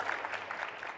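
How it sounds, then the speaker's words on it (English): Audience applause at a television industry conference session, a steady wash of clapping held at moderate level through the whole second with no voices over it. "please applaud"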